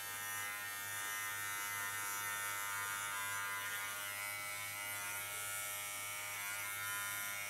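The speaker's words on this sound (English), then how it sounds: "I lay my clipper totally flat on the skin" An electric hair clipper buzzes steadily as it cuts hair, laid flat against the skin, giving a close, constant motor hum with a dense set of harmonic tones and no speech.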